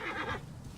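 A horse whinnies in Assassin's Creed Origins, a short, loud neigh filling the first half before fading into low game ambience.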